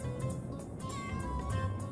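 A cat meows in the video game Chrono Cross, several short mews repeating at a steady pace over soft game music, fairly quiet and close.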